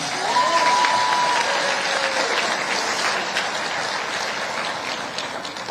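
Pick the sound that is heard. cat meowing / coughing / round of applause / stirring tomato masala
round of applause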